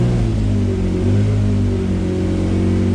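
Toyota MR2 SW20 with a swapped 2GR V6 engine and drive-by-wire throttle, idling loudly with a steady low rumble and slight rise in revs, close up and continuous, no voices.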